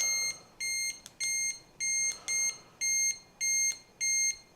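Electronic beeping from a Gotrax GX3 electric scooter, eight evenly spaced bursts of a bright high-pitched tone repeating steadily, fairly quiet with no voices.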